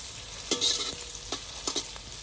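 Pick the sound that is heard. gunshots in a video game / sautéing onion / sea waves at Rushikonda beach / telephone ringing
sautéing onion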